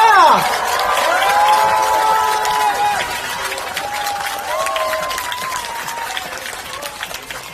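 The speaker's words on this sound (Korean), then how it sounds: "우리 큰 박수로 이재명 대표님 환영합시다." A crowd at an election campaign rally in a market square applauds and shouts to welcome party leader Lee Jae-myung. Steady, full clapping with scattered cheers holds throughout, slowly easing in volume.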